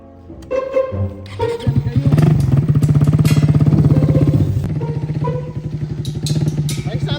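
A motorcycle engine revving and puttering close by, a steady throbbing drone that swells and eases over several seconds, with people talking over it.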